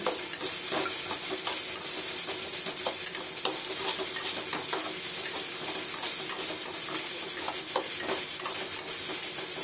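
Onions frying with a pinch of salt in a pan, a loud continuous sizzling hiss with repeated scraping strokes of a stirring spoon, close up and without speech.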